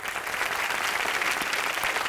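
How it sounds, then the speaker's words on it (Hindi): An audience on a TV show set claps loudly and continuously, a dense, steady wash of applause lasting throughout. "क्या जोरदार तालियां सलमान भाई के लिए"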